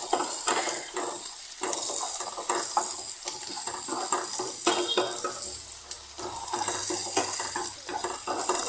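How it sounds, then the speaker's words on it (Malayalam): Onions and ginger sautéing in a pan while being stirred, a continuous bright sizzle broken by frequent scraping and clinking of the utensil against the pan. "അതിനെ നമ്മളിങ്ങനെ ഇളക്കിക്കൊണ്ട് കൊടുക്കണം. എന്നാലേ അത് നന്നായിട്ട് വഴന്ന് കിട്ടും."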